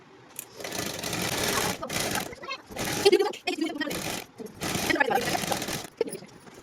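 A sewing machine stitches a pant zip seam in bursts of rapid, close mechanical whirring, separated by short pauses, with a voice speaking in the gaps.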